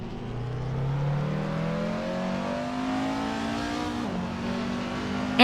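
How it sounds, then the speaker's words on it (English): A 2014 Abarth 500 Assetto Corse race car drives in a racing video game, its engine droning and climbing steadily in pitch through the gears, with a brief sharper burst at the end. "is driving a 2014 Abarth 500 Assetto course and is currently in 8th place"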